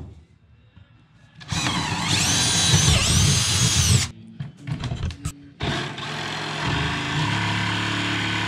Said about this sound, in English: I'm gonna drill some holes just to get started with this jigsaw